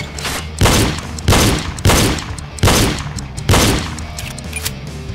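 Gunfire in the shooting game Reload: five loud, heavy shots fired one after another at roughly even intervals, each with a booming decay, then a quieter tail with no further shots.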